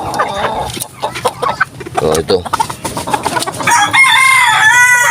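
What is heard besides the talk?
chickens clucking and rooster crowing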